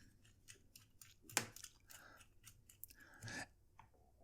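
Small metal fittings of a Moonman M8 fountain pen being pushed back together, giving close, quiet clicks and scrapes with one sharper snap and a short rubbing grind.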